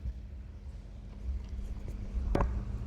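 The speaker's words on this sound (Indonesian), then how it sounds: "Di sini BTW ada suara kipas ya." A low, steady hum and whoosh of an electric fan running close by, with a few faint clicks and knocks over the constant drone.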